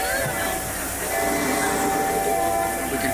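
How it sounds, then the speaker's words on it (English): A steady, loud rumbling hiss of a Disneyland train carries on throughout, heard from the Liberty Belle riverboat on the Rivers of America, a continuous mechanical drone with a faint whistle-like tone. "We can hear the train in the background."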